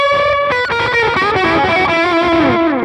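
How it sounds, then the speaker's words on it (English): Electric guitar run through a Line 6 Helix delay effect with a dirty, distorted tone, a sustained melodic line smeared by repeating echoes that blur the notes together, loud and alone. "the delay sounds a little too dirty."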